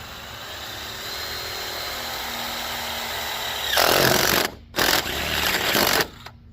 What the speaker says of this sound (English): We're just gonna drill down the bottom just a tad.